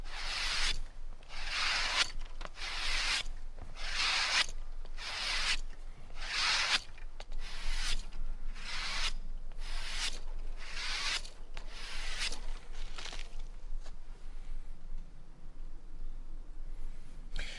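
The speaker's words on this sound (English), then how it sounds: "I'm going to use the inside of my belt, and I'm going to drag the knife so that the edge is coming the other way" A knife blade dragged edge-trailing along the inside of a leather belt, the rough side of the leather, producing steady rhythmic rasping strokes, close and even, that thin out toward the end.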